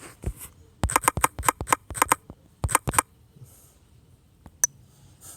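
Fast typing on a keyboard, close and crisp, with bursts of sharp clicks in quick rhythm, then a pause and a final lone tap.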